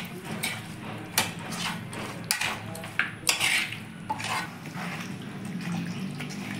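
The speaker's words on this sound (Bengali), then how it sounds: "এইভাবে হাত দিয়ে ভালো করে মাখিয়ে রেখে দিলে মাংসটা ভালো করে মজে যাবে।" Goat meat is mixed by hand with mustard oil in a bowl, giving soft wet squelching and slapping with occasional sharper clicks against the dish, quiet and close with no talk.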